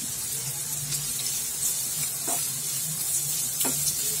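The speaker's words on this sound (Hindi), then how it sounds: "तेल गरम हो चुका है, अब इसमें हम प्याज डाल रहे हैं।" Onions sizzling steadily in hot oil in a pan while cooking a ladyfinger (okra) dish, a continuous close frying hiss with a few faint clinks and stirring sounds, no voices.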